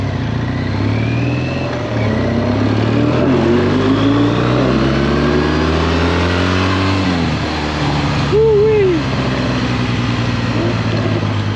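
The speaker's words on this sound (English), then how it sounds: "The Lamborghini does accelerate." A Lamborghini SUV pulls away from traffic lights on a suburban street, its engine note climbing loudly and steadily through the gears, then easing off and rising again near the end.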